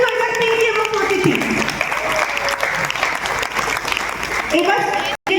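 Sustained, loud audience applause at a Bengali stage play as members of the production crew are called onstage, a dense steady wash of clapping with voices mixed in, dropping out only briefly near the end.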